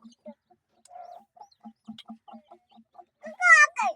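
A hen gives soft, low, intermittent clucks close by while newly hatched chicks join near the end with a couple of bright, high peeping chirps.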